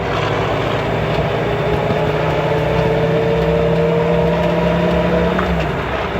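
A 1954 Willys Jeep drives over bumps while shifting through the gears, its engine a loud, steady, close drone with no break.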